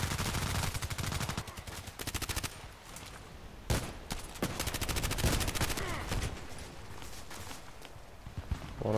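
Gunshots in the Contract Wars video game, including the RFB rifle, come as rapid bursts of close, loud shots, then sparser single reports mixed with footsteps and handling noises.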